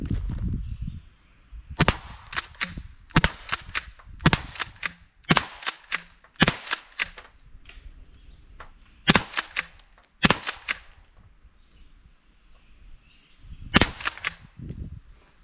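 An unmodified Byrna HDX launcher fires a dozen or so sharp, loud cracks at irregular intervals, some in quick pairs, close to the microphone, with quiet gaps and faint handling noise between shots.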